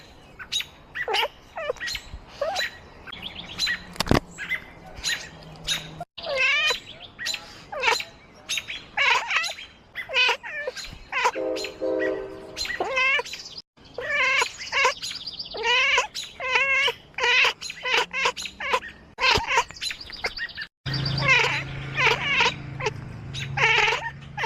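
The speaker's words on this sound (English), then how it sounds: "It's a good cat." A cat meows repeatedly over about twenty seconds in a run of varied, insistent calls and chirps, close and fairly loud, with no talking.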